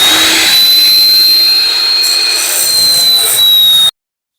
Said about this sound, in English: I'll take the angle grinder with the flap disc and cut it down to its appropriate length.